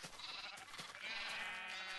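Sheep bleat in the video game Minecraft, several overlapping wavering calls that are faint and close together, with no talk.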